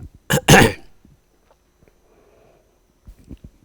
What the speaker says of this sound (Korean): 모기가 들어가서 교수님이 기침을 했는데